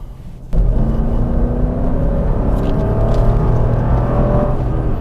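Lexus LX 570 V8 engine accelerating on the road, a loud, deep, sustained rumble that kicks in suddenly and holds strong from inside the cabin.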